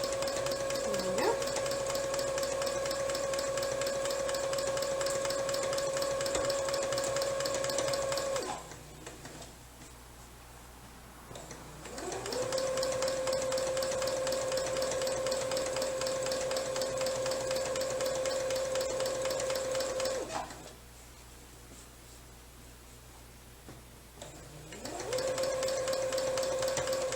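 A small domestic sewing machine stitches through a quilt in long, steady whirring runs. The runs are broken by two short pauses where the motor stops, and the sound is close and moderately quiet.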